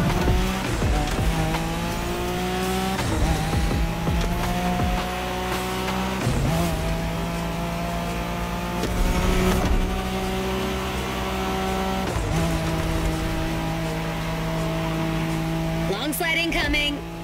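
Drifting car in The Crew Motorfest, its engine holding steady revving tones through long slides with tire squeal throughout, pitch stepping up at each gear change, loud and continuous under a voice talking over it.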